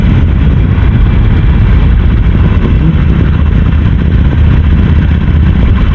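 A starter motorcycle idles close by in a steady, loud, unbroken low rumble that holds evenly throughout, with no voices heard over it.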